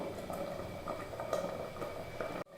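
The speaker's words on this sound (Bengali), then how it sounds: "আবারও ঢাকনা দিয়ে লো ফ্লেমে 5 মিনিট ফুটিয়ে নেব।" Rice payesh simmering on a low flame in a covered pot gives a steady soft bubbling for over two seconds, then cuts off abruptly near the end.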